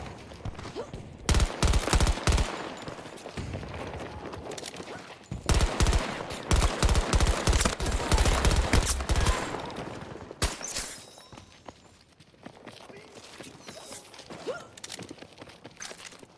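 Gunfire in the video game Battlefield 2042, with several loud clusters of rapid shots and single cracks, separated by quieter stretches with distant pops and footsteps.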